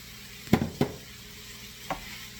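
Rice being stirred in a paella pan for a monkfish, Swiss chard and sesame seed paella, with two close scraping strokes near the start and a softer one later over a faint sizzle.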